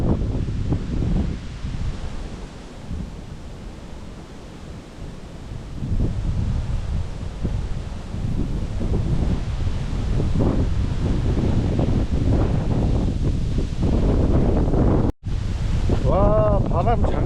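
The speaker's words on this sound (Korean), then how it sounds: "와, 바람 장난 아닙니다." Strong, gusting winter wind on a mountain trail on Bukhansan near Baegundae roars steadily and loud across the microphone, rising after the first few seconds and staying heavy to the end.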